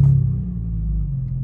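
A BMW E90 engine turns over and settles into a low, steady idle rumble, close and even after a brief initial burst.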